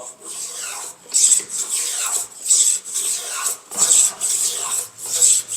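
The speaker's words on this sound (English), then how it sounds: "So we got some nice shavings coming off." Wood being shaved by hand into chopsticks, producing a close, steady series of dry rasping strokes, each lasting about a second with short pauses between them, with no one talking.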